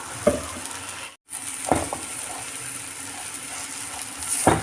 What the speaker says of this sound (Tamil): ஸோ விட்டு நல்லாவே கிளறி விட்டுக்கோங்க